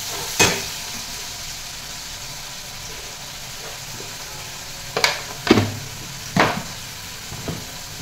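Chili powder frying in oil with tomato paste for stuffed brinjal, a low steady sizzle broken by a few sharp spatula knocks and scrapes against the pan, close by and with no talking.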